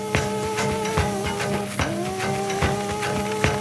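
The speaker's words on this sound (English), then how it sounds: "In this scene, the triplets use household objects as instruments for their music." Household objects, among them a vacuum cleaner, are played as percussion and tonal instruments in a 1920s jazz-style piece: steady rhythmic hits sound over sustained humming tones, with no voices.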